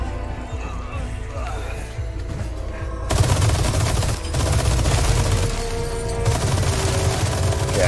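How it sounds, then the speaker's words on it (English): Mounted turret machine gun in the Resident Evil 4 Remake roaring in sustained loud bursts that grow heavier partway through, with dense gunfire and a game soundscape close up and continuous throughout. "Oh, I should just grab this turret."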